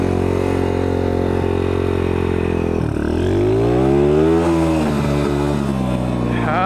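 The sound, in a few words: dirt bike launching, engine revving with tire spin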